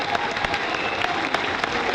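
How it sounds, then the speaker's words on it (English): A crowd at an outdoor animal show at a theme park applauds Pinky the flamingo, a busy patter of many claps with a few sharper, nearer hand strikes standing out. "Again, you can have a round of applause for Pinky."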